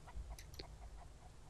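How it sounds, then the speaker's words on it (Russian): A chicken in the survival video game Mist Survival gives a few faint, short clucks over a quiet low background hum. "А, это курица."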